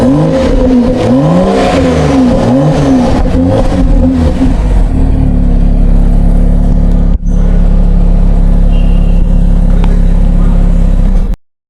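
A BMW X4 engine revs hard several times in rising and falling sweeps, loud and close, then settles to a steady idle rumble before cutting off abruptly at the end.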